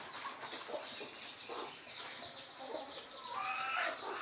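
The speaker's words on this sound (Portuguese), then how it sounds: "Tem mais galinha chocando." Hens cluck steadily in a farmyard on a rural smallholding, several birds near and at mid-distance making overlapping clucks and squawks against a constant bright background.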